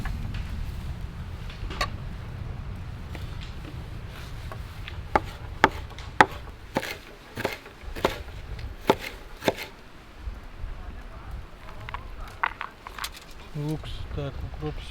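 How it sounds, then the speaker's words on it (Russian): Dill cut with a knife on a board, a run of sharp separate chops, some in quick bursts, at close range over a low steady background hum. "Нарежем укроп."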